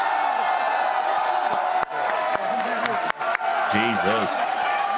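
A convention panel crowd at Anime Expo cheers and whoops loudly and continuously, with scattered shouts and claps over a steady roar, and a voice briefly speaks over it.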